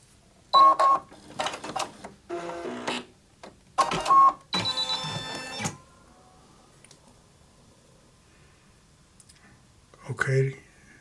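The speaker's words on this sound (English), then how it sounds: "Okay to move the embroidery carriage to its original position." Brother Innov-is 2800D sewing and embroidery machine's embroidery carriage moving back to its original position, heard as several short mechanical whirring bursts with pauses between them, fairly close, followed by quiet and a brief faint sound near the end.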